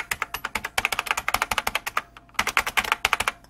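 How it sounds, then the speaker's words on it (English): Rapid clicky typing on a Unicomp Model M Classic buckling-spring keyboard, a dense close stream of crisp key clicks in quick bursts with a brief pause midway. "This is a Unicomp Model Ultra Model M Classic. It's just like the old IBM keyboards, ultra clicky."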